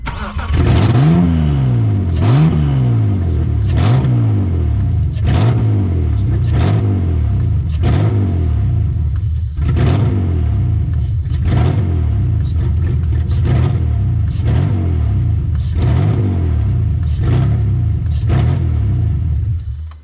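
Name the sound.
BMW E46 330i engine revving with catless headers exhaust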